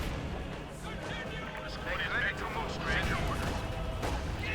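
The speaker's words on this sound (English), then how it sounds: "Kedmev bombarding the Germans in the hopes of catching someone with a rocket" Rocket artillery bombardment in Company of Heroes 2, a dense, continuous rumble of distant blasts and crackling impacts over a battlefield, with a voice talking over the barrage.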